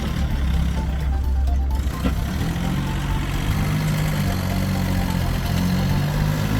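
A John Deere 3036E tractor from 2021 with an eight-speed shuttle gearbox runs steadily near the microphone, giving a continuous low engine drone with no pauses and no voices.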